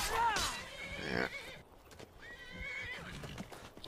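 Shadowmere, a horse in the video game Skyrim, gives a loud, close whinny that rises and falls, followed by hoof clops and a second shorter neigh, with a voice briefly heard.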